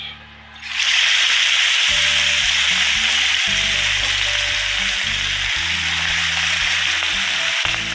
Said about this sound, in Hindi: ये जनाब हमारा अभी ऑयल गर्म हो गया। अब इसमें ऐड करेंगे फ़िश।